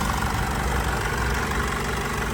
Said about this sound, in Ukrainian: Так, а зараз заведу двигун, покажу вам підкапотний простір.